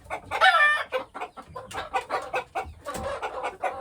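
Farm chickens clucking and squawking nearby, a busy cluster of overlapping clucks and cackles with a rooster-like call near the start, loud and close.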